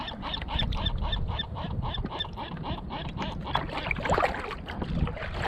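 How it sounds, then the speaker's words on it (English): A seagull growls and squawks near a kayak on the water, a handful of short rough nasal calls in an uneven series, fairly close, over faint lapping water and paddle sounds. "I didn't know seagulls growled"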